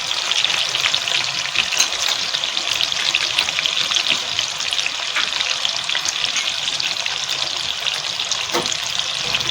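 Ghee sizzling steadily in a pan while muri ghonto cooks, a constant bright crackle with occasional sharper pops, close and unbroken for the whole stretch, no voices.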